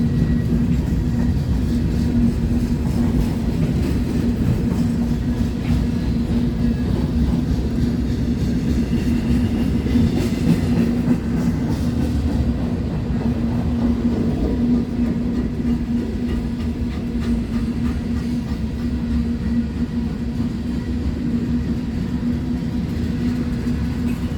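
A CP Rail freight train rolls past at close range in Fremont, Nebraska, giving a steady, continuous rumble with a low hum and faint wheel clatter and no talk.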